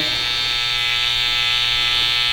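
Cheap electric hair clippers trimming a taper fade around the ear run with a steady, close, loud buzz from start to finish.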